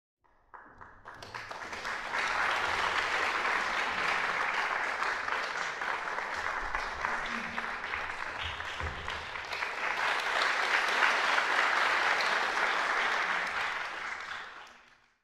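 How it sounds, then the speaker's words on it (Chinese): A concert hall audience at a memorial concert for Professor Peng Ming-min applauds a singer and pianist. Thick, even clapping swells in, holds steady for over ten seconds, rises slightly, then fades out. "让我们掌声欢迎。"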